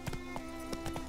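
Horse hooves clip-clop steadily while riding in The Witcher 3, the soft rhythmic beats sitting over a constant low game hum.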